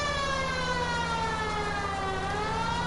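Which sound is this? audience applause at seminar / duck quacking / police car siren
police car siren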